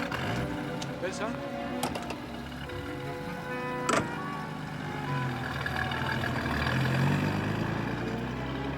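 A car pulls away from a drop-off point in a Barcelona street in 1917. A low engine rumble swells toward the end, mixed under talk and other background sound.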